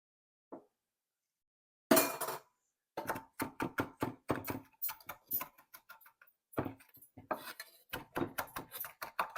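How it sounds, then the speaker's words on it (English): A knife chops parsley on a cutting board for shrimp-stuffed portobello mushrooms, making a single faint tap followed by rapid, crisp, irregular knocks in close bursts with short gaps. "Now we're going to mince the parsley."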